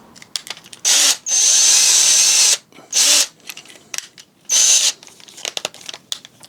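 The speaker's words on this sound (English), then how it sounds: "then drill that" Power drill driving into a wooden dining chair during a repair, in three loud whirring bursts with short pauses and quiet handling sounds between them.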